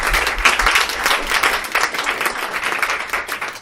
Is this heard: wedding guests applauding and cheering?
yes